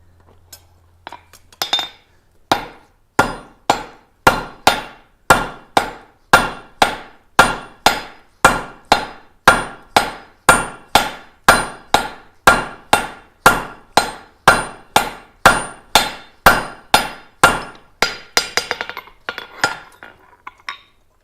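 Three-pound straight peen hammer forging hot metal on an anvil, struck in a steady run of about thirty loud, ringing clangs at close range, rhythmic and evenly paced, slowing into lighter taps at the end.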